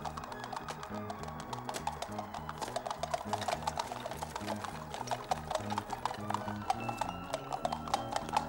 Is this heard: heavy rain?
no